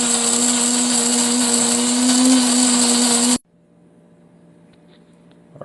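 An electric coffee grinder whirs loudly and steadily as it grinds Inspire Coffee Roasting Company beans, running for about three seconds before cutting off abruptly into near silence.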